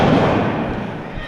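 Kicks and blows land with heavy thumps in a pro wrestling ring during a live PPW event, loud impacts over a dense, roaring crowd and ongoing commentary.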